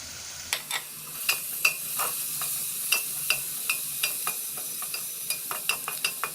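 Spice masala with turmeric and chili powder is stir-fried in a pan, a soft sizzle beneath a regular series of sharp spatula taps and scrapes, close and rhythmic throughout.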